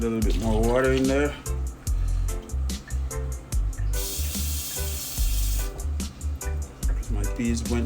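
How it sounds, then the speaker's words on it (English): Water is poured into a seasoned pot of rice and peas on the stove, a broad hissing pour in the middle of the clip, set among loud music and cooking clatter. "We need to add a little bit more water in there."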